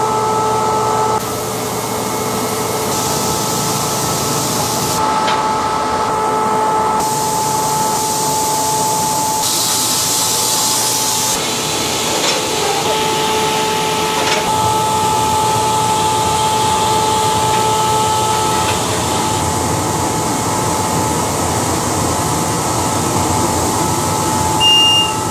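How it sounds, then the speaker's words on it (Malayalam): A fully automatic coir mat printing machine runs continuously and loudly, giving a steady industrial whir with hissing, spray-like bursts and a faint tonal whine. "ഞങ്ങൾ ഈ കോയർ ഇൻഡസ്ട്രിക്ക് വേണ്ടി ഒരു ഫുള്ളി ഓട്ടോമാറ്റിക് മെഷീനാണ് ഇപ്പം ഡെവലപ്പ് ചെയ്തിരിക്കുന്നത്"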